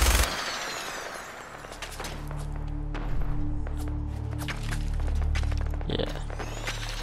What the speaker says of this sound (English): I'm like shooting way too high.